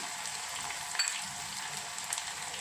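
Onion and two dry red chilies sauté in a pan for chaat gravy, giving a quiet, steady hiss of frying with a couple of faint clinks.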